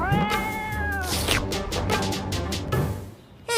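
A cartoon cat meows repeatedly in a stylized, drawn-out way with wavering tones, loud and close, with a background music bed underneath.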